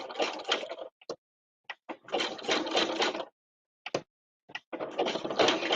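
A sewing machine stitches around fabric curves for reverse appliqué. It runs close by in several bursts of steady whirring, broken by short pauses and brief clicks as the needle position is adjusted. No one speaks.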